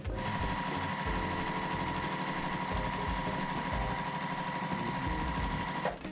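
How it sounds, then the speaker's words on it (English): A sewing machine stitches batik quilt pieces together in a fast run, its loud, steady mechanical whir continuing close by for several seconds before cutting off. "I'm going to start sewing 6 across here, and I'm going to make 7 rows of 6."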